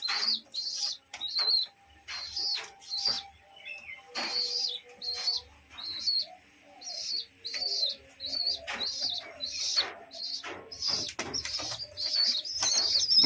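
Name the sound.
pigeon feeding its chicks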